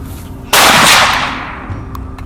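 A single loud gunshot during a hunt of invasive wild boar in Florida, a sharp blast with a long, fading echo across open ground.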